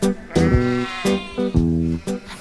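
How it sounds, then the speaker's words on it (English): Several sheep bleat on a sheep farm, loud and close, in a run of wavering calls with brief gaps between them. "a sheep farm"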